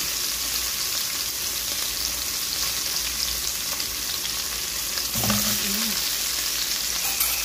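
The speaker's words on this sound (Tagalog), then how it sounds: "Lightly fry natin lahat ng yan." Potatoes, banana and other ingredients for a Filipino pork soup lightly frying in oil, a steady close sizzle with a brief stirring scrape near the end.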